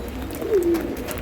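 Giribaz pigeons in a breeding loft give a single soft, rolling coo, close and clear over a low background hum.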